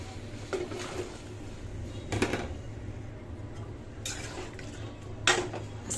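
Potatoes and onions fry in a pot while a utensil stirs them, giving quiet scraping and occasional metallic clinks and knocks over a soft background hiss, with no talking.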